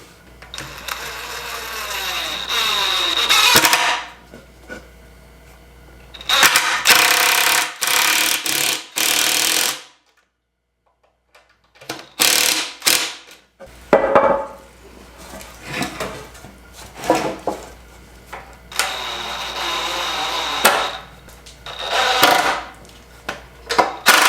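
A power drill whirs in several long bursts, driving number 8 interior wood screws into wood, loud and close, with short gaps and one quiet pause between runs.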